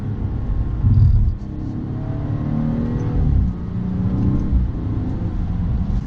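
The B58 engine of a 2018 BMW M240i revs up on a downshift, a loud, close rumbling rise and fall of engine note repeating over several seconds with no voices.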